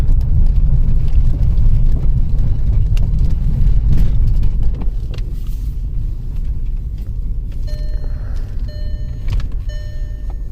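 Steady low road rumble from a 2007 Volkswagen GTI driving down the road, continuous throughout and loud, easing slightly about halfway, with faint high electronic chimes near the end.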